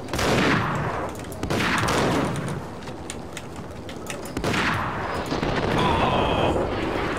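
Bursts of gunfire from the Max Payne video game hammer out in rapid, loud volleys, with echoing booms and short lulls between the salvos.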